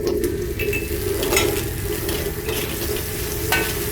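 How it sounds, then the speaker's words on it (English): Peppers stir-fry in a hot wok for a snow pea dish, a steady close sizzle with intermittent clinks and scrapes of metal utensils against the pan. No one speaks. "Fry briefly. Then add the peppers."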